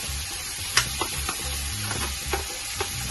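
Pieces of beef sizzle in a hot pan, frying to brown, with soft scattered crackles and a few sharper pops and stirring scrapes close up.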